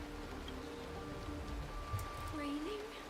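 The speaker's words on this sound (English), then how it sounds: "It's raining!" Steady rainfall in a video game, a soft continuous patter heard faintly under voices and light tonal game sounds.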